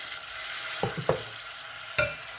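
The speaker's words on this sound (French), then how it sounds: "On rajoute un tout petit peu d'eau. On mijote." Prune tagine simmering in a pot with a little added water, a soft steady sizzle broken by a few short clinks of a utensil against the pot.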